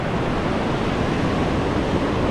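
Steady ocean surf washes onto a San Diego beach on a sunny day, a loud, continuous, close-up broadband rush with no break and a touch of wind.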